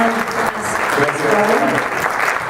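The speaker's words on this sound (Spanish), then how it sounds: "Un fuerte aplauso, por favor." An audience at a press conference breaks into loud, close applause that swells and holds for a couple of seconds, with some voices mingled in the clapping.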